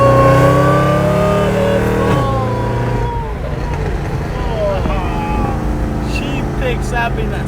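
A Honda Civic fitted with a Type R kit accelerates under partial throttle from inside the car, its engine note climbing in rising sweeps with a shift-like dip, while people talk over it.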